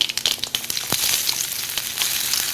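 Loud, close sizzle as shallots hit hot oil, a burst of crackling hiss that settles into steady frying.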